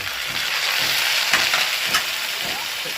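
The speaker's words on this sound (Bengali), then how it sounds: "এও ভাজা হবে আলুর সাথে একের পরে ভাজা চলছে" Capsicum and potato fry together in a pan with a steady, close sizzle and crackling hiss, punctuated by a few louder spits and stirring scrapes, with no talking.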